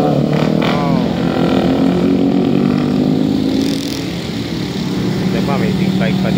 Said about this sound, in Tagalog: May big bike pa dito. R1 mga master.